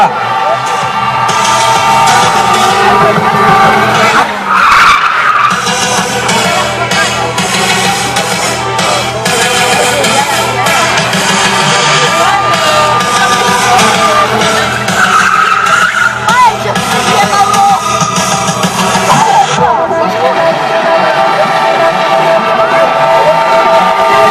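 Monster truck driven flat out and skidding around an arena track, its engine roaring loudly and continuously with tire noise, crowd sounds and an announcer talking over it.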